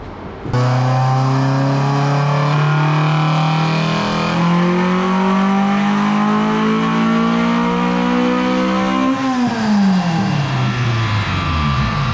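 A Honda Civic EM1 engine on nitrous revs hard and holds a loud, sustained high-rpm drone for several seconds, then drops off as the revs fall.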